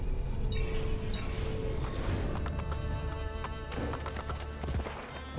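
A horse gallops in Assassin's Creed Brotherhood, hooves clattering in a quick repeating rhythm over a loud, busy game soundscape.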